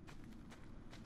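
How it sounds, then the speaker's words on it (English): Footsteps in the shooter game Call of Duty Black Ops 4 arrive as a few soft, evenly spaced thuds over a low rumbling game backdrop, faint and somewhat distant. "I think I heard footstep."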